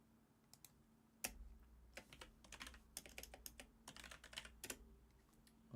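Bursts of quick key taps on a computer keyboard, fairly close, with clusters of rapid clicks broken by short pauses.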